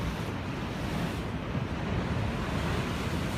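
Ocean waves rolling in at Ocean Beach, San Diego, California: a steady, broad wash of surf and wind that stays full and even throughout, with no voices.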